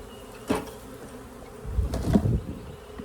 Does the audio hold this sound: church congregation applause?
no